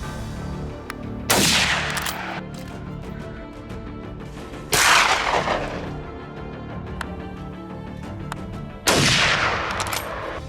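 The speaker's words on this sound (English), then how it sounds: "The farmer grabs a .38 108 rifle loaded with heavy gauge bullets to dispatch them quickly" Three sharp, loud rifle shots from a .38 108 rifle with heavy-gauge rounds, fired at wild boars invading a Texas tomato farm, spaced a few seconds apart, each with a long echoing decay over a steady outdoor background hum.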